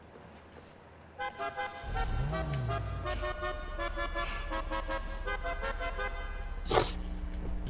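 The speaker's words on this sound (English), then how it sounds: "I want to hear all the horns in my cars" Car horns honking in a racing video game, a loud sustained honk with harmonic tones and a short sharp blast near the end, with a brief voice at the start.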